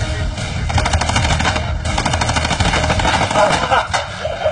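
Paintball markers firing nonstop during a match, a dense, loud stream of rapid popping shots that overlap into a steady rattle with no letup, heard close and alone.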